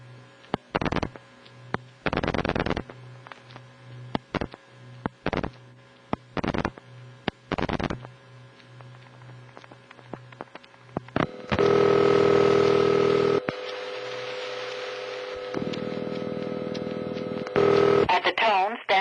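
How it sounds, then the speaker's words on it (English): A vintage Bell System city telephone line in New York, with a steady, continuous dial tone held for several seconds and surrounded by short bursts of dialing tones and line hum. "The dial tone on that call is a typical Bell System city dial tone, which is also on this example from New York."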